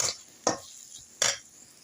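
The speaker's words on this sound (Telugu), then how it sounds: "టమాటకాయ కూడా అందులో వేసేసి బాగా నీట్గా కలిపేద్దాము" Chopped tomato being stirred into a potato curry in a pan: three short, sharp scraping clinks of a spoon against the pan, close and distinct, spaced about half a second apart.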